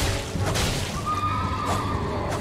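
A horse neighs in the video game Elden Ring, a clear whinny rising out of steady combat ambience, with game sound continuing underneath.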